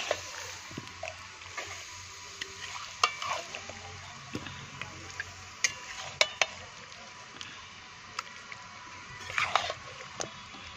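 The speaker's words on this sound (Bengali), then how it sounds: "মাংসটা দিয়ে দিলাম, আলুটা কষিয়ে গেছে পরে। এই যে এখন তাকে ভালো করে মিক্সড করে নেব।" Meat and potatoes are stirred in a hot pot, the spoon scraping and knocking against the metal over a soft, steady sizzle of frying, all heard close up.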